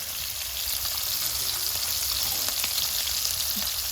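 Shrimp fry in a pan with grapeseed oil and butter, making a dense, steady, close crackling sizzle throughout, with faint scattered pops and no speech.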